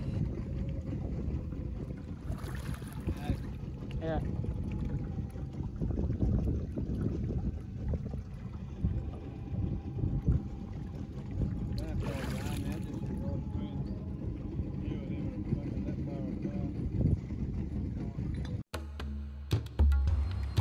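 A fishing boat moves slowly on a river in Kakadu National Park, Australia, with a low engine drone, wind buffeting the microphone and occasional voices, ending in brief handling knocks.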